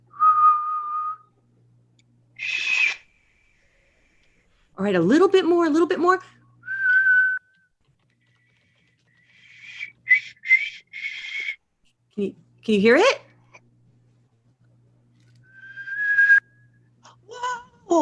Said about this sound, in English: So I've talked to her about putting all of her fingers on, and don't blow too hard. The whistle works with you.